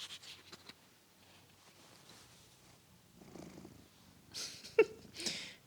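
A cat purrs softly and close by in a quiet room. The purr is faint and low, with a few louder snuffling breaths near the end and no talk.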